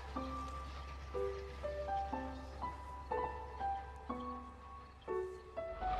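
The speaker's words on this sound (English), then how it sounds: "This is the sound of the post train." A sequence of tonal whistle-like notes in a steady melodic pattern over a constant low rumble, like a distant steam mail train passing at night.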